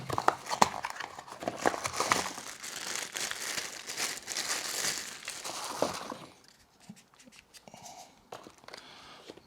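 Packaging of a Yongnuo YN360 III LED light being opened: loud crinkling and tearing of plastic and cardboard up close, fading to quieter handling sounds with a voice speaking briefly near the end.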